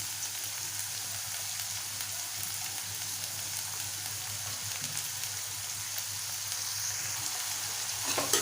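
Sprouted moong sautés in a pan with a soft, steady crackling sizzle like light rain, faint and even throughout, and a few louder stirring sounds near the end, with no speech.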